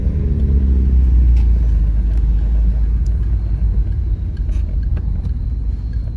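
Mitsubishi 3000GT SL VR-4 twin turbo with 53K miles on the road, heard from inside the cabin as a steady, loud low engine and road rumble. Light ticks and rattles sit above it, and the drone eases slightly toward the end.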